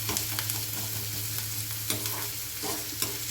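Onions and green chili sautéing in a pan, with a steady close sizzle and repeated light scraping of a spatula stirring.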